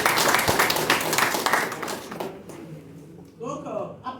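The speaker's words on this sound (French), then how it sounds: "Merci, applaudissez pour vous." Audience applause at a public gathering in Togo, dense clapping for the first two seconds that thins and fades as a voice starts speaking over the tail.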